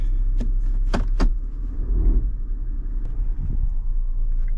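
Car engine rumbling low and steady as the vehicle pulls away after being shifted back into drive, with a few brief clicks or knocks near the start, heard from inside the cabin.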